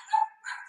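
Two short barks from pet dogs, somewhat distant and fairly faint, in a quiet indoor room with no talk over them.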